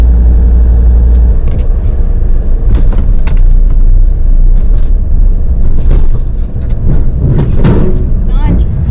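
A car rolls onto a ferry at the Buckley Bay terminal on Vancouver Island, with a loud, steady low rumble and occasional thumps and bumps throughout while a voice talks over it.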